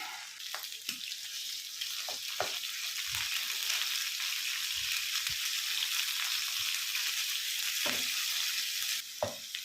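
Minced pork sizzling in a hot pan with garlic for a Thai pork omelette, a steady bright frying hiss with occasional scrapes and stirring knocks, no voices.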